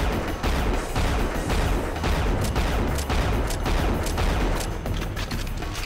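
Rocket launcher blasts and pistol shots from the video game Unreal, dense, continuous gunfire and explosions filling the whole stretch at steady high loudness with sharp repeated cracks.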